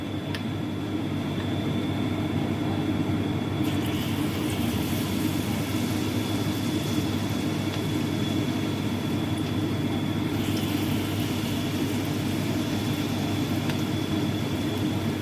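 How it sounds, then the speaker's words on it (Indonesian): Tempe mendoan fries in hot reused oil, earlier used for fish and chicken, with a steady, dense sizzle and crackle that holds even throughout, close and unbroken, with no speech. "Kita goreng sampai selesai."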